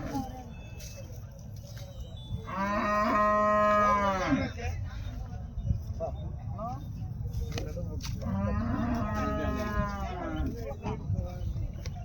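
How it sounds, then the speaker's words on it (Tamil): Sindhi cattle at a busy cattle market give two long, loud moos, one early and one later, over steady crowd noise and people talking nearby. "இது என்ன மாடுங்கண்ணா? சிந்து மாடு தானுங்கண்ணா?"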